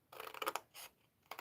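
Scissors snip through a piece of white card in a few quick close cuts, a short burst of crisp slicing followed by another brief snip after a pause, with no talking.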